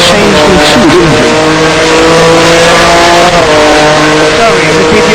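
Race car engine from a racing video game, the STC Blue Cup touring series at Bahrain, drones loudly and continuously with shifting revs and brief tire squeal, while a person talks over it throughout.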